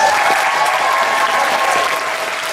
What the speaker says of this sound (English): one more round of applause for our skits